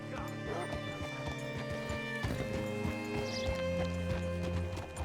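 A horse in Red Dead Redemption 2, steady hoof clip-clops close by with a brief whinny, layered over a faint background of other game sounds.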